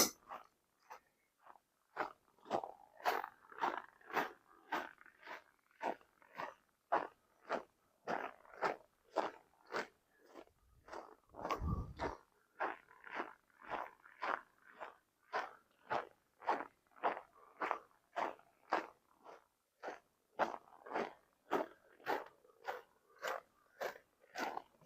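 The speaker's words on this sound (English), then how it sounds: "That crunch is the sound of winter in Saskatchewan." Boots crunching on cold, packed snow during a winter walk through Regina, Saskatchewan, at around minus 13 degrees: steady, evenly paced footsteps, close and crisp, continuing alone for the whole stretch with a brief heavier thump midway.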